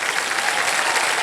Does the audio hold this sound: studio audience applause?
yes